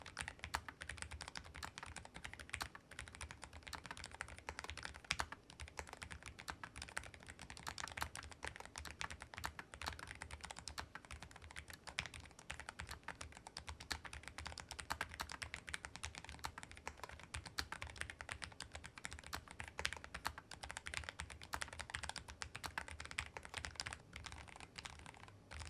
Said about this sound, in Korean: 이제 본격적으로 타건 테스트 진행해 보도록 하겠습니다